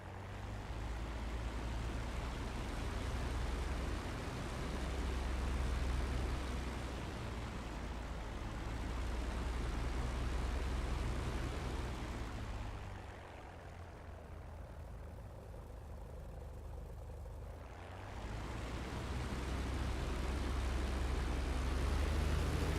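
Propeller aircraft engine of a P-51 Mustang in the DCS flight simulator taxiing, a steady loud low rumble that dips quieter for several seconds before swelling back to full drone.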